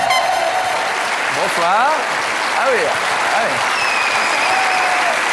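A studio audience applauds steadily and loudly on a television talk show as a guest named Priscilla is welcomed, while a man greets her and talks over the dense clapping.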